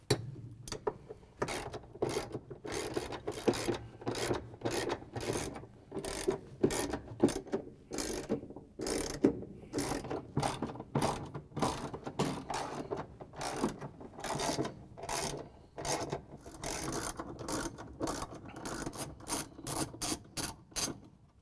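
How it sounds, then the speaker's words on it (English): A hand ratchet with a 3/8 inch socket and extension turns out washing machine transmission bolts in steady repeated clicking strokes, close and fairly quiet, with no talk. "We're going to use the same 3/8 inch socket with the ratchet and the extension again."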